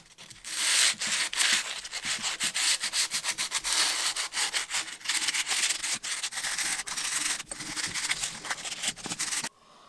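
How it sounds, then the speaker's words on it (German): Continuous rasping of sandpaper rubbed over wooden planks of an O-scale model railway turntable in quick back-and-forth strokes, close and loud, stopping abruptly at the end. "So, schleifen wir jetzt noch ein bisschen ab."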